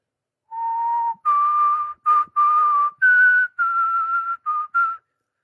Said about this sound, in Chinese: 你里边有那个吹口哨那个，你们听到那个口哨音了吧？